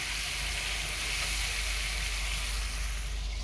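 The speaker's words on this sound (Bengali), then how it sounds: "লবণ আর হলুদ দিয়ে চিংড়ি মাছটাকে সামান্য ভেজে নেব।" Prawns frying in oil with salt and turmeric for a Bengali lau chingri dish give off a steady, dense sizzle that holds without a break throughout, with no talk over it.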